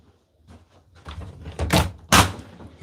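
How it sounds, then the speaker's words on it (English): A noisy door is worked open or shut, starting with faint rattling and creaks, then building to two loud, sharp thunks close by, the second the heaviest. "This door is so noisy."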